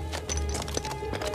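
A horse's hooves clop on rocky ground in a few quick, fairly close steps.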